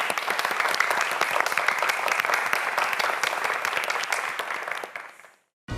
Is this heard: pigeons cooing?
no